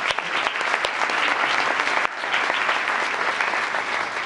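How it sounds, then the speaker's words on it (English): A town council meeting audience applauds council members, loud, continuous clapping from many hands sustained across the whole moment, close and dense, with no speech on top. "Let's give them a nice round of applause."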